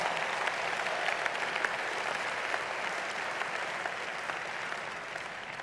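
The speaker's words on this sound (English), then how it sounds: "Let's give all of our volunteers, hard-working volunteers, a big Urban League round of applause." Steady applause rises from a conference crowd at the National Urban League gathering, honouring the hard-working volunteers; the clapping is dense, continuous and fairly distant, with no talk over it.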